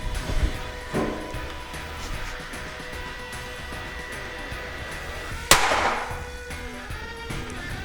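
A TenPoint Viper 430 crossbow is shot once through a chronograph: a single sharp, loud crack with a brief ringing decay stands out against steady low outdoor background, with a softer thump heard earlier.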